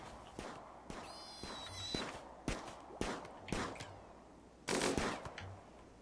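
Sharp gunshots ring out in the colony-building game Rimworld, a dozen or so irregular cracks spaced across the stretch, some doubled, with a longer burst near the end, fairly quiet against a soft background.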